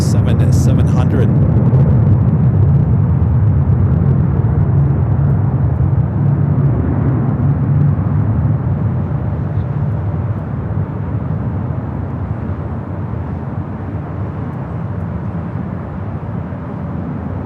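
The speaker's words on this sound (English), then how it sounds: "Next takeoff here on the north side, Southwest Airlines flight 2863 heading to San Jose" Southwest Airlines Boeing 737-700 departing LAX, a loud sustained jet roar that stays steady and heavy throughout, slowly easing a little toward the end, with no voices.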